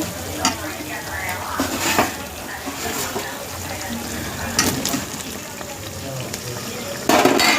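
Prawns and onions fry in oil with ginger-garlic paste in a pan, giving a steady, close sizzle with occasional scraping and stirring clatter and a few sharper knocks.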